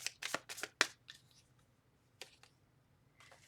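Tarot cards shuffled by hand in a quick burst of several crisp riffling flutters, then a pause and a few softer, scattered card slaps, close and clear with no voices.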